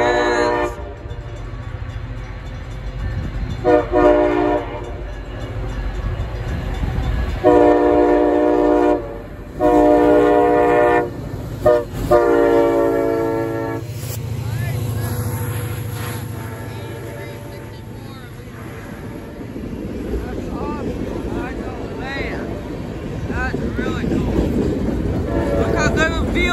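A CSX freight train led by a tier 4 locomotive rolls past in snowy Holland, Michigan, sounding loud, sustained horn blasts up close, followed by a rumbling, steady roar of passing cars. People talk briefly over it.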